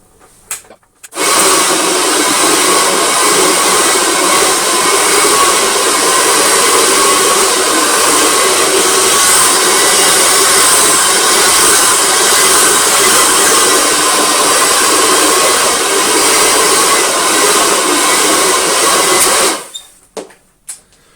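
A Kirby vacuum cleaner grooming shampoo into a rug and picking it up starts with a sudden loud whine, runs as a steady, harsh motor drone for about eighteen seconds, then winds down and stops.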